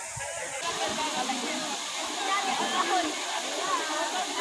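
A waterfall at the end of a rocky trail roars with rushing water, a dense continuous hiss that fills the whole stretch at an even level.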